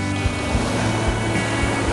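Waves breaking on Lake Michigan, a steady broadband wash of surf with recurring low surges roughly every half second, close and loud, with wind noise and no talk.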